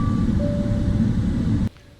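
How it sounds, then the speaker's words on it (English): A Boeing 777 EICAS communication-message oral alert in the cockpit: a short pair of tones, the first higher and the second lower, sounding over a loud steady rumble that cuts off abruptly near the end. "always come with an oral alert, which sounds like this."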